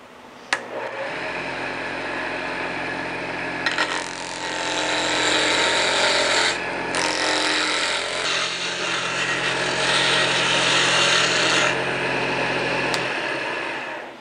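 Woodturning lathe bringing a block of wood down to round, a loud continuous whirring and rough chattering of the gouge cutting the spinning blank, steady for most of the stretch with brief changes in tone as the cut shifts.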